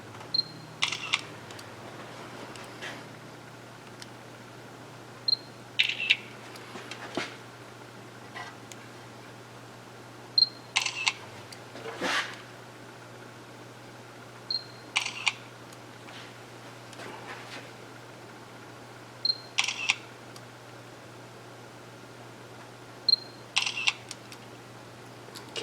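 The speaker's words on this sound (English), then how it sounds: "let's get a picture so we don't forget to reinstall that insulator" Camera shutter clicks from photographing an ACOPOS 1320 servo drive during repair, several short sharp clicks spaced a few seconds apart over a quiet background.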